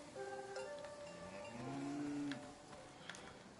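Cattle mooing in a flooding valley in a video game, several long low moos rising and falling one after another, fairly close and clear over faint ambient background.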